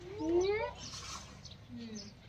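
A cat meows near a family home, a rising drawn-out cry followed by a softer second call, with faint background noise between.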